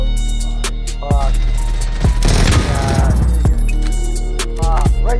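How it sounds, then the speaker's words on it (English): A grenade detonates in a shooter video game, a loud booming blast with a rumbling tail, preceded and followed by sharp game gunfire cracks. "I just threw a nade at it."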